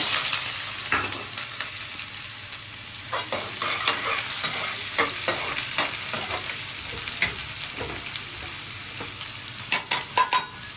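Onions sizzle steadily in a pan with cumin while a spoon stirs and scrapes the pan in frequent, irregular clinks, close and loud, with no talking.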